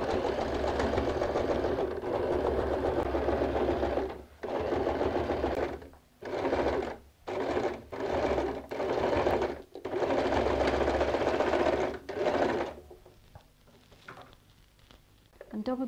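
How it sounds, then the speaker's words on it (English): A sewing machine runs a zigzag stitch over a straight seam on a bag made from recycled jeans, whirring steadily in long bursts broken by short stops and quick restarts, close and clear. "On top of the straight stitch I go and sew a zigzag stitch."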